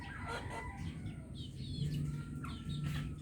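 Chickens clucking softly while eating feed in the morning, with close, low clucks and occasional higher chirps over a steady background murmur.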